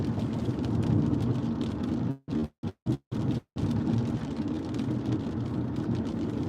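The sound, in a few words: rain and thunder during storm in Las Vegas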